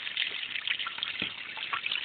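Water drains steadily from a pool filter chamber, a continuous close trickle and gurgle with small splashy surges throughout.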